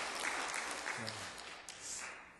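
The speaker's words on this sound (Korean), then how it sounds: "우리 한번 일어나시면 박수로 한번 환영하시겠습니다" A Korean church congregation at a Sunday service in New Jersey claps in welcome, a short and fairly faint burst of applause heard from a distance.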